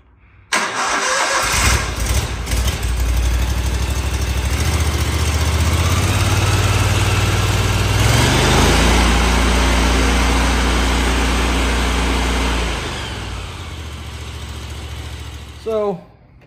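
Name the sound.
engine starting after new injectors and fuel lines fitted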